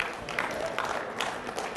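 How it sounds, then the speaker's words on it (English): A luncheon audience applauds the Richmond Football Club, a steady soft patter of many hands heard from a distance, continuous across the moment with light crowd murmur. "Yeah, round of applause for the Richmond Footy Club."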